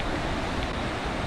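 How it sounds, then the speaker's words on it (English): Big waves crash along the Jeju coast on a rough, typhoon-swept day, heard as a steady broadband roar of surf mixed with wind noise on the microphone, continuous and fairly loud with no speech. "You can see the waves crashing over there."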